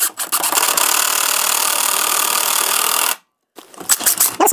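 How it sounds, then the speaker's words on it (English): A cordless drill drives number 12 screws with a Phillips tip into wood while building a garden compost sifter, one sustained loud whirring run, a brief pause, then short pulsed bursts. "notice I'm pumping the drill. That gives you better control."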